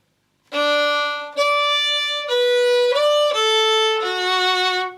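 A solo fiddle plays the opening A-part phrase of the Scottish tune 'The Uist Dance', about six distinct bright bowed notes, close and clear, with no talking.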